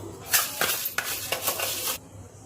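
Two spoonfuls of fenugreek seeds tipped into a bowl for homemade hair oil, heard as several close, bright clinks and rattling pours of small seeds against metal over about two seconds, then quiet.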